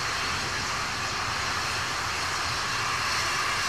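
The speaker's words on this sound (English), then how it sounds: "And liftoff. Liftoff to the Atlas NROL 101 mission for the National Reconnaissance Office." An Atlas V rocket with an RD-180 engine, climbing during launch ascent and heard from about 8000 ft above Titusville, produces a continuous, heavy, distant roar that stays steady and loud throughout.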